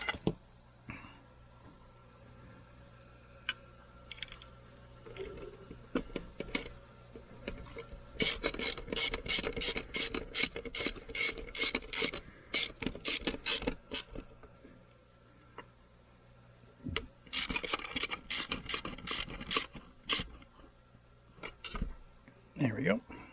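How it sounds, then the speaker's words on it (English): Small screws being driven back into the underside of an Apple AirPort Extreme after a fan replacement, heard as close bursts of rapid, rasping clicks from a small screwdriver in two main spells, with quiet handling noise between them. "all we gotta do is just fish our little screws back in on the bottom"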